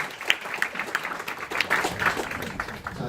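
An audience at a Google education event in a lecture hall claps after a rapid-fire presentation, the applause uneven and rippling with distinct sharp claps standing out from the general patter.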